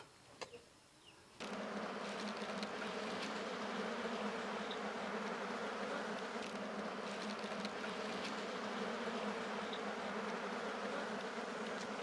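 Bees buzz densely at a beehive apiary, a steady droning hum that begins abruptly after a quiet second and then holds evenly, with occasional nearer passes.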